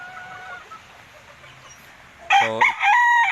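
A gamefowl stag rooster lets out one loud, close crow near the end, after a quiet stretch with faint background noise.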